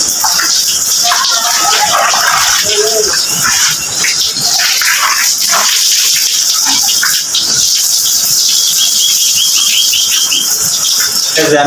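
Water splashes and gushes over cow dung in a biogas setup on a cattle farm, a steady wet hiss running throughout with some background voices and birds.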